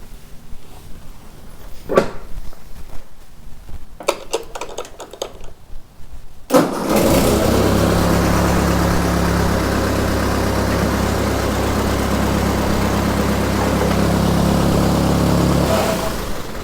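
A few faint knocks and clatters, then a Ford 8N tractor engine starts abruptly and settles into a loud, steady running drone with the power takeoff engaged, continuing to the end.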